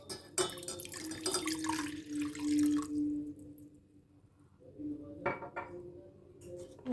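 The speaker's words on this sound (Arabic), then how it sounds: "اول حاجه هحط كوبايه ميه" Water pours into a cup with a rising gurgle for a few seconds, then a brief clink of glassware; quiet kitchen setting.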